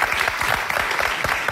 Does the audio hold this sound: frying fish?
no